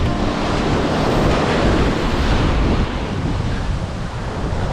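Surf rolls in continuously at Seven Mile Beach on Grand Cayman, a loud, steady wash of breaking waves with wind buffeting close by.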